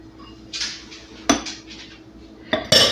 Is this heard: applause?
no